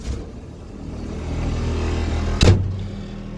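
An Orchard-rite tree shaker machine's engine cranks and fires up, a low steady rumble building before a sharp burst as it catches, close and alone.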